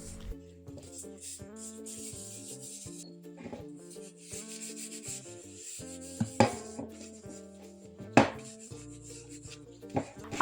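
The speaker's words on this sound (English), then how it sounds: "Using a damp sponge, take a small amount of paste and spread it over the kettle." A damp sponge rubs baking soda paste over a kettle in short scrubbing strokes, soft gritty swishes under steady musical tones, with a few sharper knocks.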